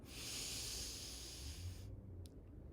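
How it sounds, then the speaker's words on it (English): A deep pranayama breath drawn in through the nose gives a soft, close, airy hiss that runs for about two seconds and then stops, followed by near silence. "Finally, inhale."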